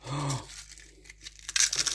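A burger wrapper being crumpled by hand, with short crackly crinkling and tearing bursts that grow louder toward the end, close and brief, after a quick vocal sound at the start.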